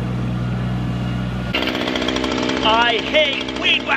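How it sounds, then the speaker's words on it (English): A string trimmer starts up abruptly and buzzes loudly with a steady, high-pitched motor whine, after a low engine hum. "I hate weed whacking!"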